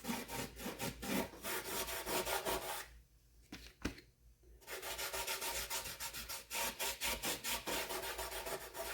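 Steady rhythmic rubbing by hand in circles over the wood veneer of an antique chest, with close repeated strokes, a short quiet pause midway, then continuous rubbing again.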